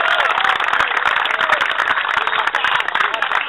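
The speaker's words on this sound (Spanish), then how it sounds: "Un aplauso para ellos." Spectators at a nautical football interclub awards ceremony give sustained, dense applause for the champion club, many hands clapping close by with scattered voices and whoops mixed in.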